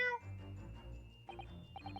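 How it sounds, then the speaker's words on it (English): A cat meowing in The Great Ace Attorney Chronicles video game, a short high mew at the start, then quiet background music with soft chimes. "There's a cat."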